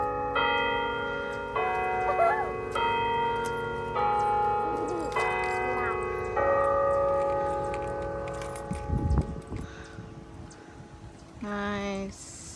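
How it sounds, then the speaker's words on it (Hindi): A large bell rings out at a park beside Niagara Falls, sustained tones layered over steady ambient noise, with a few voices and a louder burst of crowd sound partway through. "अभी यहाँ पे घंटा भी बजेगा"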